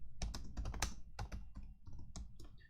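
Quick bursts of clicking keystrokes on a computer keyboard, close and fairly quiet, in an uneven typing rhythm with short pauses, no voices.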